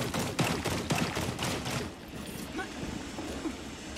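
Gunfire in the video game Rainbow Six Extraction, a rapid run of sharp shots in the first two seconds, fairly close and loud, then settling into a softer rumble of game noise while players talk.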